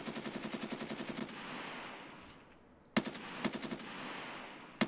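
Rapid SKS rifle fire at scavs in the Escape from Tarkov game, heard as a fast burst of evenly spaced shots, then a pause with a faint rumble, then another quick volley and scattered single shots, fairly near.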